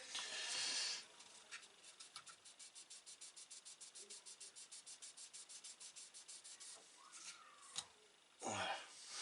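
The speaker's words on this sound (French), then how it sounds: "on va prendre un petit papier de verre un tout petit peu plus fort et un peu plus droit sur les bords" Fine sandpaper rubs the edges of a BMW M6 GT3 scale model in quick, even strokes, a soft rhythmic scratching that runs close and steady for several seconds.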